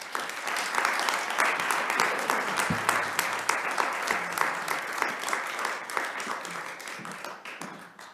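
A lecture audience gives a sustained round of applause welcoming keynote speaker Jack Rakove, many hands clapping steadily and evenly for several seconds before tapering off at the end.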